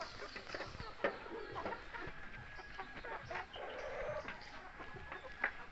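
Several Rhode Island Red chickens cluck and murmur close by, with a few louder squawks rising over a steady background of farmyard noise; no one speaks.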